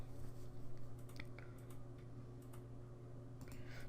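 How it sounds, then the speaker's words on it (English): Faint, irregular clicking of a computer keyboard in the background over a steady low hum, with sparse taps spread through the quiet room. "And sorry if you hear the clicking in the background."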